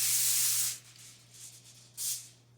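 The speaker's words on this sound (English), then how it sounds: "Spray it with some spray, Pam, whatever, vegetable oil spray" Vegetable oil cooking spray hisses onto foil in two bursts, a long close spray followed by a shorter one after a quiet pause, with a low steady hum underneath.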